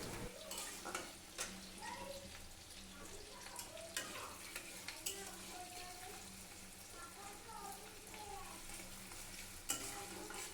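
Onions frying with cumin in hot oil in a wok give off a faint, steady sizzle with occasional stirring scrapes, while someone talks softly over the cooking.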